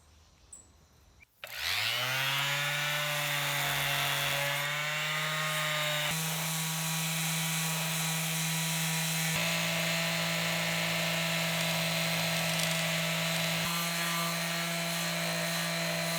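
A power sander with low-grit sandpaper starts up and runs on resin, giving a loud, steady motor whine with a rough abrasive hiss that holds evenly throughout.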